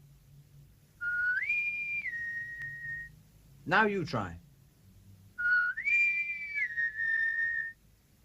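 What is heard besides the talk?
people whistling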